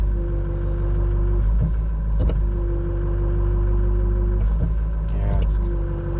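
A 2006 Ford F250's power steering pump, low on fluid and leaking at the hydroboost, whines steadily as the brakes are applied, over a constant engine idle hum with a few faint clicks and knocks.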